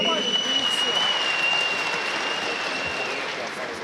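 Audience at a fight event applauding steadily and loudly throughout, a continuous wash of clapping with a faint high electronic tone running underneath.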